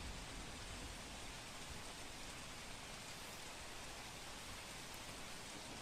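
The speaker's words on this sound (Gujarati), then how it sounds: "વ્યારાના સ્ટેશન રોડ, બસ ડેપો સહિતના તમામ વિસ્તારોમાં વરસાદ પડ્યો છે।" Heavy monsoon rain pours over the streets of Vyara in Tapi, Gujarat, as a dense, steady wash of rain noise with no pauses, fairly faint overall and free of voices.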